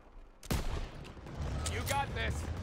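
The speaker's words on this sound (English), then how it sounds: "The squad needs support! Yellow and Zussman need covering fire." Battle gunfire in the World War II video game Call of Duty: WWII, with a sharp close shot followed by a continuing rattle of fire and distant pops, plus brief voice-like chatter.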